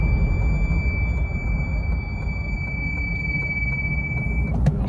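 A faulty 2020 C8 Corvette gives off a steady, thin, high-pitched squeal that holds without a break over a low rumble for several seconds.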